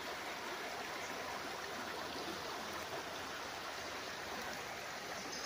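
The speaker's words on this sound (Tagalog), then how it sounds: "nandito pa rin yung ilog o sapa" A clear stream flows continuously across a farm lot in Liliw, Laguna, making a steady, even broadband rush of running water at moderate distance with no voices.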